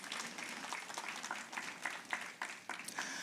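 Applause for a hard-working team at a Ministry of Education celebration of Career and Technical Education month, a fairly faint, even rattle of many hands clapping that continues steadily without talk.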